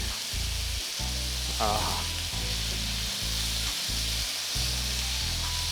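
Chicken sizzles and fries in a pan with a constant loud hiss. A low, rhythmic hum pulses underneath, and there is a brief clatter near the middle.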